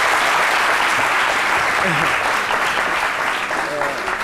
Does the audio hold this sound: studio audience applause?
yes